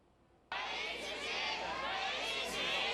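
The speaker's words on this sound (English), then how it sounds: "A crowd of hundreds shouts in rage outside the Taipei District Court." A crowd of hundreds shouting in rage outside the Taipei District Court, a dense, loud roar of many voices that bursts in abruptly and holds steady throughout.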